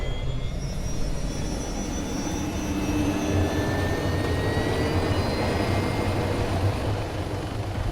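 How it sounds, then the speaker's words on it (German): Helicopter in the video game DayZ spinning up, a steady broadband engine and rotor roar with faint whining tones, holding constant and fairly loud throughout with no talk. "waited for the heli to start so that I can shoot"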